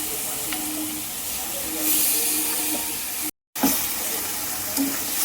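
Chicken pieces fry in oil and spice masala with a steady hissing sizzle, briefly cut to silence for a moment before resuming with a soft scrape, close and without talk.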